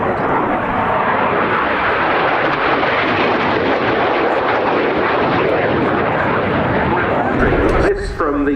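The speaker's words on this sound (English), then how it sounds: "This from the single Rolls-Royce Pegasus F402 vector thrust turbofan engine." An AV-8B Harrier II jet roars past at an air display, its single Rolls-Royce Pegasus F402 vectored-thrust turbofan giving a loud, sustained broadband rumble and whine that stays close and powerful throughout before cutting off abruptly at the end.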